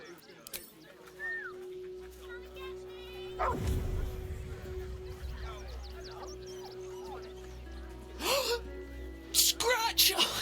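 Scratch the dog from Baldur's Gate 3 lets out short yips and barks in a game scene, with a low musical drone beneath and a loud burst near the end; characters talk over parts of it.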